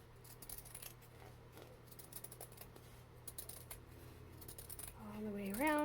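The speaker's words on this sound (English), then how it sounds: "I cut off the excess about 1 inch" Scissors snip excess fabric around an embroidery hoop, a series of faint, close crisp cuts and rustles at uneven intervals, ending with a brief rising voice-like tone.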